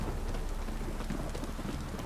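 Steady, dense rainfall hisses throughout a stormy scene in The Witcher 3: Wild Hunt, with low, continuous thunder rumbling beneath the rain, loud and unbroken.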